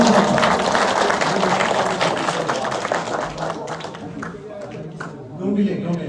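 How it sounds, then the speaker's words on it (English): Sustained audience applause fills a community meeting at a mosque, loud and dense from the start, thinning slightly toward the end with a few scattered claps and faint voices mixed in. "Please can you give him a round of applause?"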